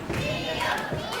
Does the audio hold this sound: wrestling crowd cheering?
yes